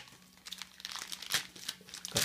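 Plastic mail package being cut open with scissors, a run of crinkling and crunching bursts of plastic close by, growing busier toward the end, with no voices.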